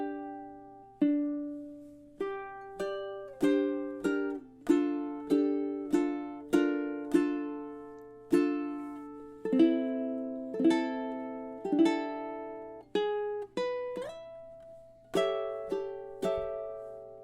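Ukulele playing March of the Toreadors slowly, single thumb-picked notes and gentle strums ringing out one after another with pauses between, clear and close.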